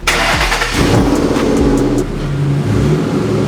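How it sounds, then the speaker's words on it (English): A Ford Mustang GT's engine roars loudly up close, revving up and dropping back several times with a deep, throaty rumble. "This car is so goddamn loud."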